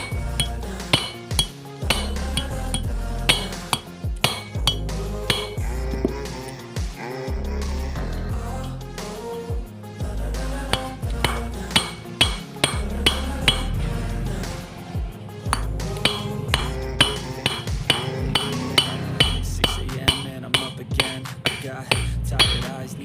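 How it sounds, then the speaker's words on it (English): Gentle hammer taps on a part of a Honda Beat scooter during valve work, a series of sharp metallic clinks at irregular intervals over loud music with singing. "di gebuk aja pelan-pelan."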